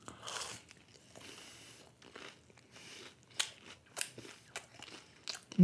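Crunchy onion rings being bitten and chewed close to the mic, with scattered sharp crunches and softer chewing sounds, growing louder toward the end.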